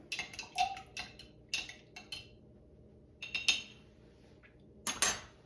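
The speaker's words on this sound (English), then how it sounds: "We'll give that a stir to combine." A spoon stirs a raspberry gin and hot apple cider cocktail in a small mason jar mug, giving bursts of quick bright clinks and ticks against the glass, close and clear, with quiet gaps between.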